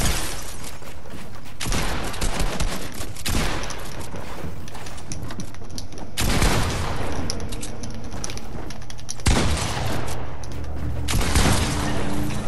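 Fortnite gunfire in a duos match: dense, loud bursts of shots and booms running almost without pause, cutting in and out in heavy blocks with no talking.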